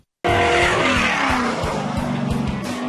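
A race car at an off-road racing event screams at high revs with loud sliding tire squeal, bursting in abruptly and sustained near and loud with engine tone wavering.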